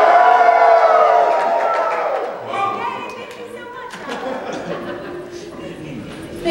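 An audience at a Power Rangers Time Force panel at Lexington Comic Con 2014 bursts into loud cheering and whooping, which fades to scattered claps, chuckles and chatter.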